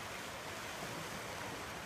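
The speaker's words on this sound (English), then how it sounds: "This is the ocean in Florida, Thomas." Ocean surf on a Florida beach at Marco Island washes in as a steady, dense roar, moderately loud and unbroken, with no voices.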